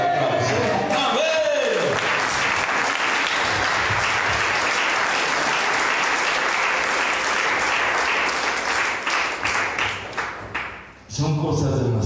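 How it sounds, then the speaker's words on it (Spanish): A church congregation breaks into sustained, dense applause for several seconds before the clapping thins out and fades, with a voice briefly heard at the start. "Denle un aplauso."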